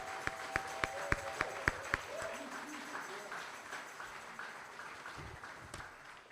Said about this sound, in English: Can we clap it up for Brother Amar Casey?